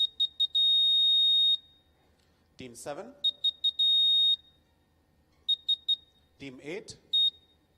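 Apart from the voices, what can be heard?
quiz buzzers beeping in sequence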